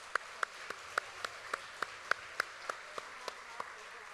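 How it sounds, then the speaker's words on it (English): Audience applause for the Junior Miss contestants at the 2022 Choctaw Nation Princess Pageant comes through faint and distant, heard as a slow, evenly spaced run of single claps that carries on steadily. "Let's give all our Junior Miss contestants another round of applause."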